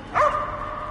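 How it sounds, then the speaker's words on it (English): A single short, close bark from a dog in the VR game Arizona Sunshine 2, followed by a faint lingering tonal whine that fades away. "You sure are good at being a dog."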